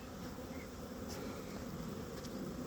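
A steady swarm of testy honeybees buzzes continuously during a February hive inspection, a dense droning hum that stays even throughout with no voices.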